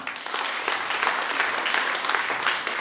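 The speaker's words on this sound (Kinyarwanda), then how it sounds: "Ni ukuri nabo ni mu bakomera amashyi." Dense applause from a school ceremony audience, a continuous wash of many hands clapping at close range, fairly loud and unbroken with no voices on top.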